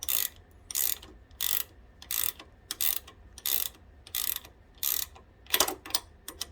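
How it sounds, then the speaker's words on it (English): A 10mm ratcheting wrench tightens the bolts of a Motobox adjustable front brake lever on a 2021 Aprilia RS660, giving about ten close, evenly spaced bursts of quick clicking with brief quiet gaps between them. "you're going to take your 10mm wrench. I have a ratcheted one here."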